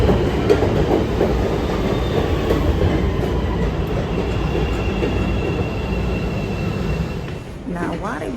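A Chicago train rolls along the rails with a continuous low rumble and rattling clatter of the cars, steady throughout, while people talk over it.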